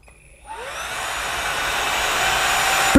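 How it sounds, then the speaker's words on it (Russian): A small vacuum cleaner switches on after a brief moment of quiet, its motor whining up to a loud, steady high-pitched whir. "Ну-ка, проверим, насколько мощный этот пылесос"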